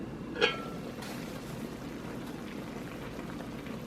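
Jamaican curry chicken simmers in its own juices in a pot, giving a faint, steady bubbling hiss with one brief clink near the start and no speech.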